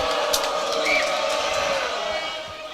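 Home crowd at a high school varsity basketball game between Don Bosco Prep and St Joe's Regional, a steady loud roar of voices with scattered shouts and whistles filling the gym throughout.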